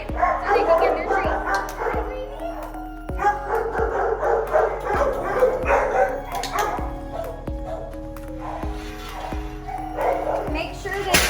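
Dogs bark outside in a backyard, loud sharp barks repeating at roughly one-second intervals with some yips and whimpers mixed in, while a person talks over them.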